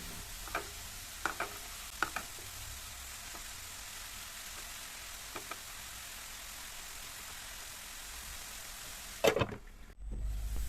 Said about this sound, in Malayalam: ഇനി ഇതെല്ലാം കൂടി നന്നായിട്ടൊന്ന് വാട്ടിയെടുക്കണം